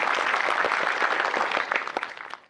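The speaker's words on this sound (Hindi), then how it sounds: "ताली तो बजा ली" Audience applause following a Hindi poem recital, dense clapping from a crowd that carries on steadily before tapering away at the end, with no talking over it.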